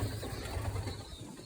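Young pigeons perched on shelves in a loft give soft, low cooing, a close and faint murmur that carries on without pause.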